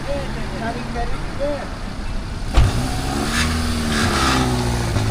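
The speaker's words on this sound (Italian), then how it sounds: "Si è fermata una macchina." A car pulls up and stops close by on a road, its engine idling loudly and steadily while people talk over it.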